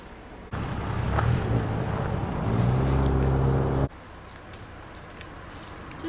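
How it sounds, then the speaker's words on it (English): A car drives along a road through bison country, with steady low engine and tire rumble that drops suddenly to a quieter, windier road noise partway through. "Driving on the road."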